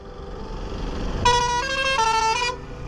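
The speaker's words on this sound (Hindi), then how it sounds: "भाई हॉर्न बजा के दिखा दो, एक दोबारा भाई, हॉर्न बजाना, हॉर्न।" A motorbike horn honks loudly in two blasts, about one and a half seconds long overall, on a street in Jaipur, Rajasthan, over a light background of traffic.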